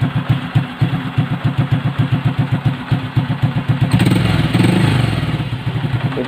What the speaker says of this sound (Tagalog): kasi yan ang tinatawag na warm up ng makina ng motor